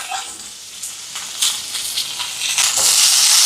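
Curry leaves, dried chillies, shallots and garlic fry in a pan, giving a steady crackling sizzle that grows louder and brighter toward the end, with no talk over it.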